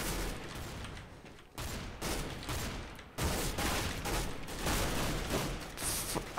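Gunfire in CS:GO Arms Race, bursts of rapid shooting broken by a few brief pauses, loud and close throughout with no talking over it.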